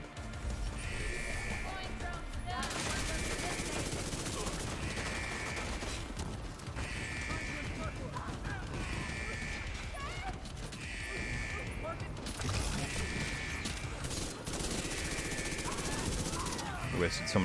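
Rapid gunfire from the video game The Division 2, in repeated bursts of shots over a dense, continuous game soundscape with a voice talking throughout.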